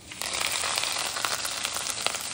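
Spices, grated coconut and curry leaves crackle in hot tempering oil, giving a steady, close sizzle dotted with sharp pops throughout.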